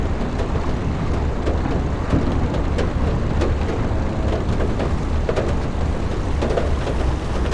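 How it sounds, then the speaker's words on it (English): Stormy weather at sea in the Seafarer ship simulator game: steady loud rain and wind noise with low rumbling, thunder and rolling waves, and no voices. "With the thunder and the waves and the lightning and whatnot."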